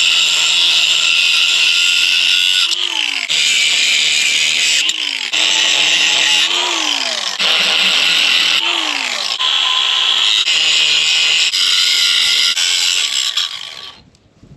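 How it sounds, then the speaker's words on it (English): An angle grinder cuts through the angled steel anchor bolts on a squeeze chute. Its steady loud whine is broken by repeated dips and pitch sweeps as the disc bites into the metal and backs off, and it ends with the tool spinning down. "get a grinder and cut the anchors off, and then hopefully I can get the load bars off that way"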